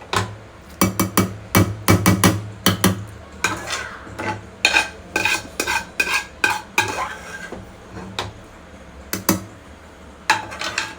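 Curry being stirred in a pan for homemade paneer butter masala, with a spoon scraping and knocking against the metal in quick irregular bursts throughout, close and fairly loud, no talk.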